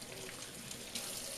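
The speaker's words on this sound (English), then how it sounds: "We'll go ahead and rinse this side off again to make sure that there's no soap anywhere on it." Tap water runs steadily onto a vinyl record to rinse soap off it, making a continuous close splashing hiss with no talking.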